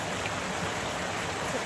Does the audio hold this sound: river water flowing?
yes